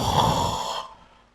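A person imitates a sleeping person's snoring with a single rasping, breathy snore that fades out at the end, with no other talk.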